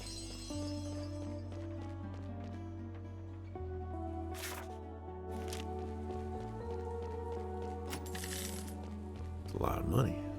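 Coins picked up in the Chained Echoes video game, several brief bright jingles scattered over steady background game music.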